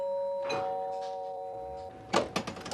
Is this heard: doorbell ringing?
yes